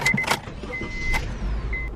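A Honda Civic in rough shape being driven, low engine and road rumble inside the cabin with a few clicks and rattles and a faint thin whine, close and moderately loud with no talking.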